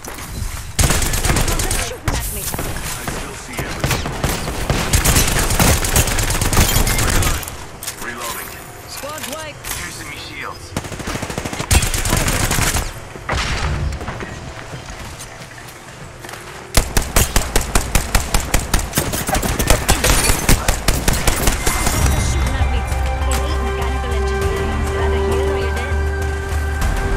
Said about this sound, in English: Wait, shooting at me.